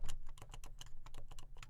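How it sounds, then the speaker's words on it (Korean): Rapid, soft, even keystrokes on a Topre Realforce electrostatic capacitive keyboard, a steady run of muted thocks heard close up with no talking. "이게 지금 듣고 계신 게 리얼포스 키보드고요."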